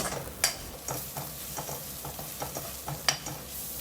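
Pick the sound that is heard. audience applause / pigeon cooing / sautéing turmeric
sautéing turmeric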